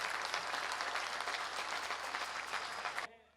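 A crowd at a gaushala gathering claps in a dense, sustained burst of applause that cuts off abruptly near the end.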